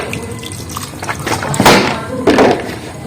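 Cut palm fruit is rinsed with water, giving two close, loud splashing pours separated by a short pause, with small drips and handling noises around them.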